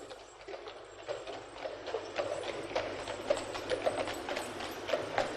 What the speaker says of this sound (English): the sound of horses in the busy streets of London